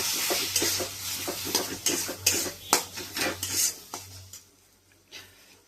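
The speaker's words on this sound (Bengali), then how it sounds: "এবার দিয়ে দেবো এই কেটে রাখা টমেটোগুলো।" Chopped tomatoes going into frying spice masala for chickpea ghugni, with a soft sizzle under repeated scraping and stirring of a spatula against the pan in an uneven rhythm, fading to quieter sizzling at the end.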